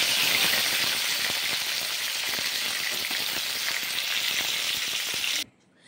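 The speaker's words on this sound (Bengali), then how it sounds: "তারপর ওই তেলের মধ্যে দিয়ে দিলাম বড়ি, কয়েকটা বড়ি দিয়ে দিলাম। বড়িগুলো এখন ভেজে নিচ্ছি।" Bori, sun-dried lentil dumplings, fry in hot oil with a loud, close, continuous sizzle and crackle that stops abruptly just before the end.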